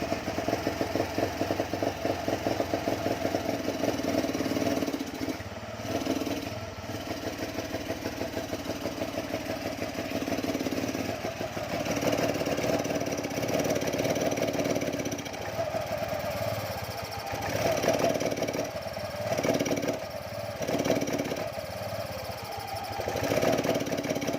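A Suzuki Spin motorcycle engine with a misfiring, hesitant fault idles steadily close by for a long stretch, with a buzzy drone broken by repeated brief dips and stumbles.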